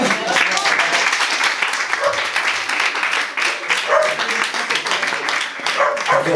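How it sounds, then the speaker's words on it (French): A French audience applauds a volunteer named Romain at a talk on hypnosis, loud, close clapping with a few cheers, continuous throughout. "Allez, on peut l'applaudir."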